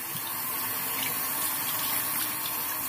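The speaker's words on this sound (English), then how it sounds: "Let's rinse off the brush." Water runs steadily from a tap while a shaving brush is rinsed under it, a loud, even gushing stream that lasts throughout with no talk.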